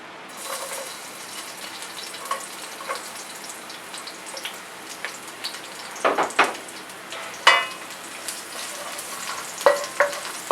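Garlic fries in olive oil in a hot pan for a Filipino pork and chicken adobo, giving a steady, close sizzle with scattered crackles and a few sharper clinks of utensils toward the end; nobody speaks.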